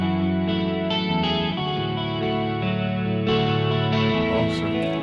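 A glassy Strat-style electric guitar patch on a Korg PA5X arranger keyboard plays sustained chords with stacked chorus, echo and reverb effects, dense and steady at a close, full level throughout, with no voices.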